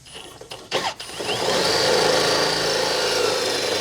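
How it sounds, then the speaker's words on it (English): A power drill bores a hole with a 3/8 bit during a 2020 Ram 1500 lift install; a few short clicks and bursts lead into a loud, sustained whirring grind. "now that you got that hole drilled out"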